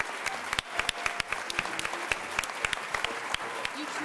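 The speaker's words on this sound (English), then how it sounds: "let's give all of our contestants a big round of applause." Pageant contestants receive a warm round of clapping from an audience, with dense, steady hand claps that continue throughout, moderately loud and a little distant in the room.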